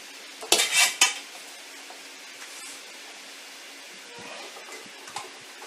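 A spoon scrapes and clinks as blanched squash is scooped into a glass canning jar, with a short burst of scooping early on, then a quiet, faint background.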